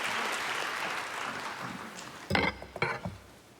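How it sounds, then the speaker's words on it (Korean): A church congregation at a special dawn revival service applauds to welcome a missionary, a dense spread of clapping followed by a few louder, closer bursts near the end. "나오실 때 박수로"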